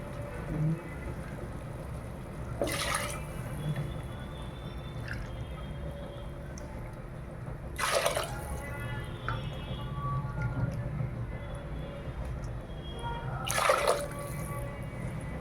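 A steady stream of water, about four cups, pours and splashes into a cooking pot of sambar vegetable rice for a long stretch, with a few louder gushes along the way.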